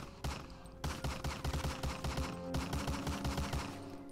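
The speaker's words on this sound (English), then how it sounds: "This is the Thompson, if I'm not mistaken." A Thompson submachine gun fires in the video game Medal of Honor: Allied Assault in long rapid bursts of loud, close shots, with a brief pause between two strings of fire.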